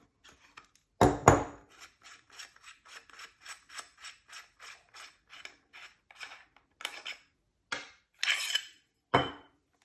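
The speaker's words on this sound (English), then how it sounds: "we're gonna need a 7mm Allen wrench. Take this off." Small metal clicks and scrapes as a 7mm Allen wrench turns and frees a part of a Huben GK1 main valve, a rhythmic series of quiet ratcheting taps with a few louder clanks, close and without speech.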